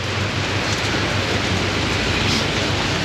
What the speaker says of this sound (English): The rain is slacking off a bit now.